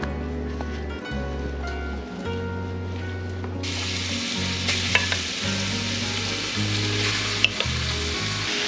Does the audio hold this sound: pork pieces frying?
yes